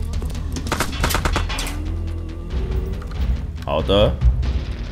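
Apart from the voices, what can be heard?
gunfire and oil barrel explosion in video game Time Carnage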